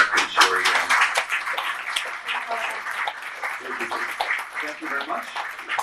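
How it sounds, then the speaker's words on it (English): Sustained audience applause at a press conference for a documentary film, dense even clapping with faint voices mixed in, steady throughout. "let's give a big round of applause for Eric"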